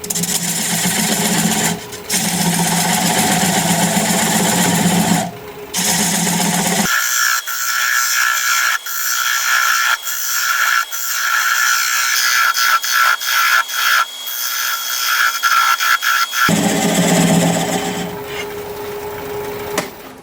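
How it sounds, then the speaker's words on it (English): A wood lathe spins a maple bowl at about 450 RPM while a 1/2 inch bowl gouge cuts away the tenon, giving a steady scraping, rubbing drone that pauses and restarts, loud and close with no talk. "I'm going to grab a 1/2 inch bowl gouge and begin to commence removing that tenon."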